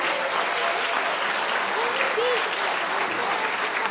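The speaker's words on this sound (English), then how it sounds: "Give him a round of applause" An audience at a school spring orchestra concert applauds a fiddler introduced as one of their own. The clapping is continuous, dense and fairly loud throughout, with faint voices mixed in.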